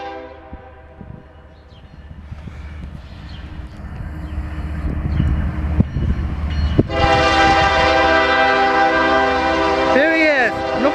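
A Norfolk Southern northbound intermodal and autorack freight train approaches in Marion, Ohio, its rumble building before a loud, sustained multi-tone horn blasts near the end over rolling wheel noise, with a voice briefly talking.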